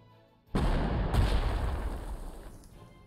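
Artillery fire in the Panzer Corps 2 Wehrmacht campaign on Sicily: one sudden heavy blast, then a second crack, with a long rumbling decay that fades toward the end.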